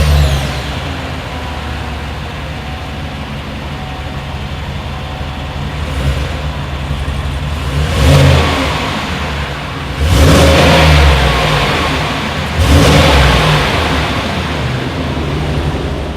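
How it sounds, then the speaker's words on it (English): A 2020 Chevrolet Suburban with a single exhaust outlet idles with a deep steady rumble, then is revved in three loud, rising bursts that fall back to idle between them, heard close with no talking. "As always, here is that exhaust clip."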